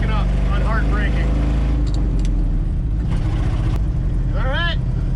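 A 1970 Ford F250 truck drives along, its engine a loud, steady low rumble throughout, with brief higher whining sweeps near the start and end and a voice talking over it.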